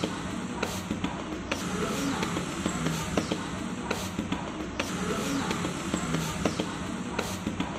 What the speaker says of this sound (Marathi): आवाज छान वाटतो भाकरीचा प्रेस जेव्हा आपण थापतो तेव्हा.